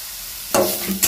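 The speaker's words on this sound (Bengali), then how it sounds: "খুন্তির সাহায্যে একটু নেড়ে চেড়ে নিচ্ছি।" Brinjal pieces and crushed neem leaves fry in a pan, a spatula scraping and stirring them through a steady hiss of sizzling oil, with a couple of close, firm strokes and no talk.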